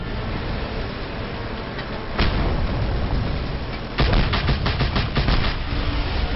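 Cannon fire aimed at a hostile helicopter in a video game booms out in heavy bursts, one blast then a rapid volley of repeated shots over a constant dense roar of game noise.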